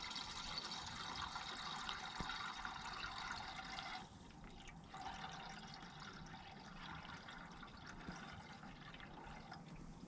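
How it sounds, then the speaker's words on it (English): Coolant pours steadily into the radiator of a Miller Big 40 welder, a continuous splashing liquid flow heard up close with a brief dip partway through and no talking. "we go get some coolant, fill this thing up, see what happens."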